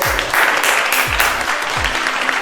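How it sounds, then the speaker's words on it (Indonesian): Audience applause at an MC school event in Surabaya, a steady burst of clapping from a crowd filling the room for a couple of seconds, loud and continuous. "Bisa beri tepuk tangannya untuk Branded Food."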